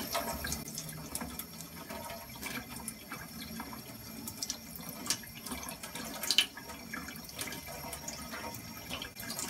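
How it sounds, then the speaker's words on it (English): Running tap water rinses oil off a straight razor at a razor workshop, a faint steady splashing stream with small irregular spatters, heard alone at low level. "I'm going to rinse this off just because we've got a lot of oil on it."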